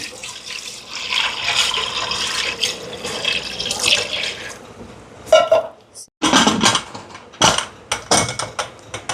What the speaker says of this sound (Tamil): இப்போ இந்த மீனுக்கு தண்ணி சேர்ப்போம்